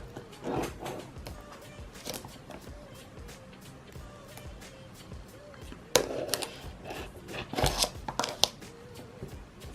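Plastic wrapping on a Target beauty box being cut open with scissors, giving sharp snips and crinkly rustles in irregular bursts that grow louder and busier toward the end, up close.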